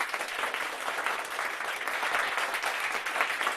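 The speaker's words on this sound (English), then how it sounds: "So there we have a wonderful simulation of our clapping, thanks to Marshall Downtown Brown." Dense simulated audience applause, a steady wash of clapping held at an even level from start to finish, with no voices.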